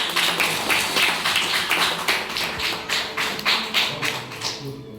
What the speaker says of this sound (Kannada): ನಾವೆಲ್ಲರೂ ಜೋರಾಗಿ ಚಪ್ಪಾಳೆ ಮಾಡೋಣ